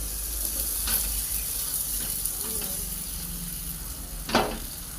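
Water sizzles on a hot griddle as bhakri flatbread cooks, a soft steady hiss with a few brief splashes and a sharper burst near the end, fairly quiet overall.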